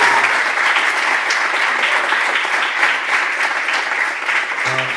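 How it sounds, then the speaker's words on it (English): A crowd at a Startup Grind talk applauds the Evernote guest, Chris O'Neill, with dense, even clapping throughout and a voice starting to speak just as it ends. "Chris O'Neill for Evernote, let's give him a round of applause."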